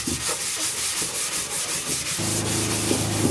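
Scuffing and sanding of interior surfaces in an Evo 9 under restoration, a close, continuous abrasive rubbing with rhythmic back-and-forth strokes, joined partway through by a low steady hum.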